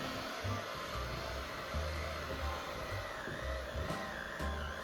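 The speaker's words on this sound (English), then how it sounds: "I know you can hear the difference in the mixer." An electric mixer runs on low speed, beating flour into sugar cookie dough in a steady, close whirring drone with a faint rhythmic thump as the beaters turn, with no talking.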